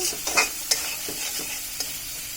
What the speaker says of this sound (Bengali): এখন মশলাটাকে আমরা ভালোভাবে কষিয়ে নিচ্ছি